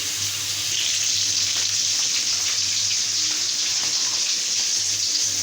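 Chopped onion and garlic frying in a pan for a fish dish, a steady close hiss and sizzle that holds evenly throughout with no talking.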